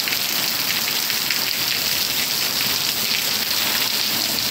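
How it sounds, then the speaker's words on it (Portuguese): Heavy rain pours steadily in São Miguel de Taipu in northeastern Brazil, a dense, continuous hiss of drops drumming on surfaces, loud and close with no voices over it. "Chuva com força, graças a Deus."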